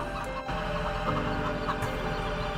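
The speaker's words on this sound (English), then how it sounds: "Hello, chickens." Chickens clucking in the farming video game Farming Simulator 17, a steady close cackle over a constant droning game ambience, with no talk.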